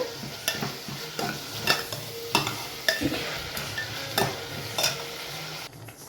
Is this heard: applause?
no